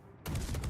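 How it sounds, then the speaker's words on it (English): Torpedo hit in the naval game World of Warships: a sudden loud, broadband explosion that cuts in after near-silence and rumbles on with heavy low-end crackle for the rest of the moment. "Hey, there's a torpedo hit."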